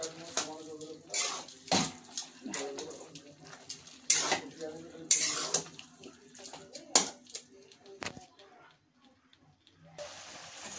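Water is poured in splashing bursts into a pan of pumpkin-leaf curry being cooked in a home kitchen, near and clear, with someone talking between pours.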